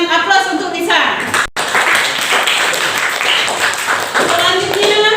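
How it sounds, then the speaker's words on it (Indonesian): Classroom applause for Lisa, a dense burst of clapping from many hands that carries on for about five seconds, stopping for a brief moment partway through, with a voice faintly audible at the edges. "Silakan aplaus untuk Lisa."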